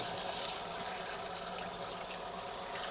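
Water running steadily from a tap or being poured in a kitchen setting to mix a whey protein drink, a continuous close splashing hiss with small bright drips, no talking.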